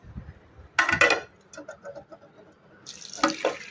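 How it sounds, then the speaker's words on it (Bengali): A plate is washed under a running kitchen tap, with two short bursts of splashing water separated by faint clinks and handling noises, close by and fairly quiet, with no talking. "প্রথমে প্লেটটাকে নিয়ে ধুয়ে ফেলি।"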